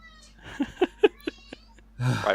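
A house cat lets out a quick series of four or five short chirping meows, close and moderately loud, followed by a longer drawn-out meow.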